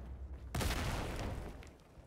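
Gunfire in a Battlefield 4 match: a sudden loud burst of shooting breaks in after a quiet moment, then a dense, sustained roar of battle noise carries on without speech.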